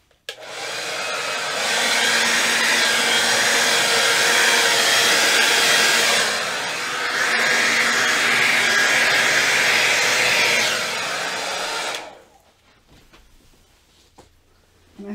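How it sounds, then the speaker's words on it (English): A blow dryer roars steadily for about twelve seconds, pushing paint across a Dutch pour, loud and close with a slight dip midway before it cuts off into near silence. "Let's grab the blow dryer and make some noise here."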